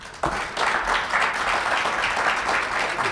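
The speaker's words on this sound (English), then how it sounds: "give him a big round of applause" Audience applause at a downtown grant announcement in Malden bursts in after a brief lull and carries on as an even, steady round of clapping from a seated crowd.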